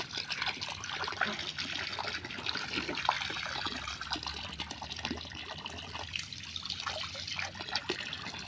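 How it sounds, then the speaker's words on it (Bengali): Water pours from a pipe into a nearly full backyard duck pond, a steady close trickling and splashing that runs continuously without a break. "আজকে পাইপ দিয়ে পানি দিয়েছি দেখেন।"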